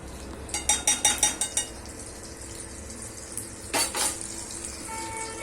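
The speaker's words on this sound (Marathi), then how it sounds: "त्या तेलामध्ये आपल्याला थोडंसं बटर घालायचंय." Butter added to hot oil in a pan for paneer butter masala sizzles steadily up close, with a quick run of metallic clinks and scrapes of a utensil against the pan early on and another burst later.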